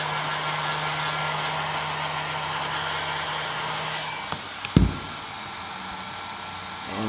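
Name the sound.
heat gun warming vinyl wrap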